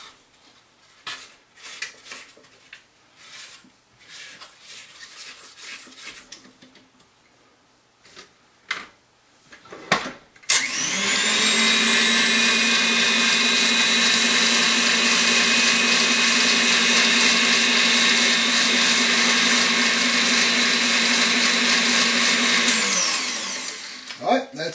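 An electric mixer blends pound cake batter in a bowl, a loud steady whir with a constant pitch running unbroken for about fourteen seconds after a quieter stretch of scraping and handling noise, then cutting off.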